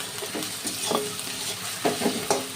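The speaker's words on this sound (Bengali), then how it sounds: "এবার মশলাগুলোকে আবারও ভালো করে নেড়ে চেড়ে লাল লাল করে নিতে হবে।" A spoon stirs spices and slit green chillies frying in a pan, with a steady hiss of sizzling oil and intermittent scraping strokes, close and moderately loud with no talking.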